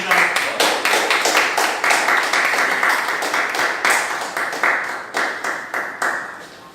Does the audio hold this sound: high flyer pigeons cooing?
no